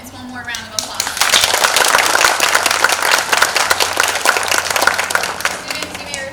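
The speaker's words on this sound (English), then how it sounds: "Let's give these students one more round of applause." Audience at an adult education graduation ceremony applauding students, steady dense clapping that swells after a quieter start and holds loud and full throughout.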